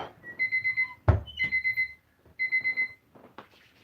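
An electronic alarm beeps indoors in fast bursts of four, repeating in several loud, close groups, broken by a sharp knock and a short pause.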